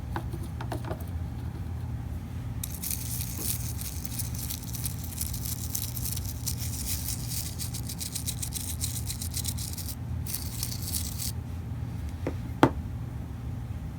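A toothbrush dipped in alcohol scrubs the analog stick of a PSP-1001 handheld console, giving a steady close bristly hiss for about nine seconds over a low background hum, with a brief click near the end.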